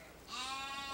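A Barbados ram bleats once, a drawn-out nasal call that starts partway in and carries to the end, close and fairly clear with no talk over it.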